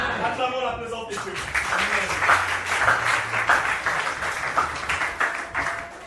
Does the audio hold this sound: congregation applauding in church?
yes